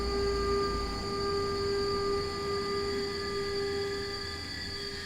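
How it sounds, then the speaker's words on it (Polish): A train passes on a Polish railway line in the Simrail simulator, a continuous rumbling roll with steady whining tones that holds for several seconds and fades slightly toward the end, with no voices. "Tam jakiś pociąg jedzie i na pewno przez niego musimy się tu zatrzymać."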